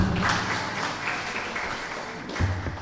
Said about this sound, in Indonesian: Ya, tepuk tangan buat Munarman.